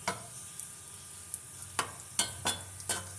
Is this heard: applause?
no